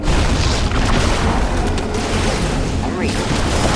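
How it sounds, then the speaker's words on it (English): Heavy gunfire and booming explosions in StarCraft II Nova Covert Ops, a loud, dense and continuous battle roar with rumbling blasts, while voices speak under the noise. "We're returning fire!"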